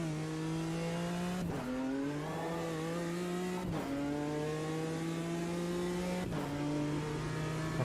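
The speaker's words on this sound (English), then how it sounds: "What a great sounding car the M4 is." A BMW M4 race car engine in Automobilista 2 drones steadily at high revs, broken by three quick upshifts that drop the pitch before it climbs again.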